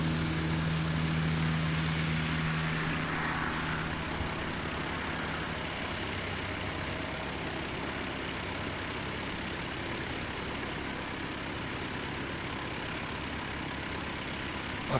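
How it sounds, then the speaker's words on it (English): Air Chathams ATR 72-500 turboprop, ex-Air New Zealand, at Christchurch Airport, a continuous droning engine roar with a strong low hum that fades slightly after the first few seconds, heard from a distance outdoors. "so that's the second of the two ATRs that Air Chatham's have got. ATR 72-500s"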